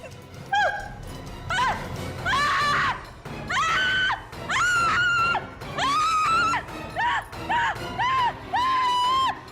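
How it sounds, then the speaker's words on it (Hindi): A woman screams repeatedly in a tense crime-drama scene, long piercing wails in rapid bursts with brief gaps, loud and close, filling the whole stretch. "क्या हुआ? इतना चिल्ला क्यों रही हो?"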